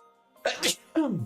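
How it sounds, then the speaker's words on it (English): A single big, forceful sneeze from a streamer bursts out loud and close, followed right away by a person speaking. "Yeah, that was a big sneeze."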